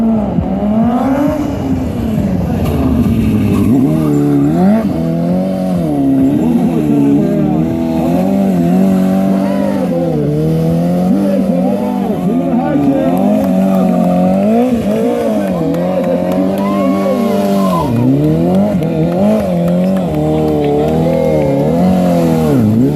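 A BMW S1000RR sport bike performs stoppie stunts, its engine loud and close, revving and wailing up and down in pitch through repeated surges, with tire noise and a voice talking over it.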